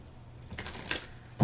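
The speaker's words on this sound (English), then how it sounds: "we're going to shuffle and cut the cards" Tarot cards are shuffled and cut by hand, two quick papery riffles and flutters up close against a quiet room, ending in a soft knock.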